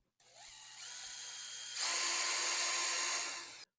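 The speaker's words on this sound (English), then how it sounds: "I can do these pilot holes" A power drill whines through a pilot hole in boards for a router sled, starting at a steady pitch and then louder and harsher as it bites deeper, ending abruptly after a few seconds.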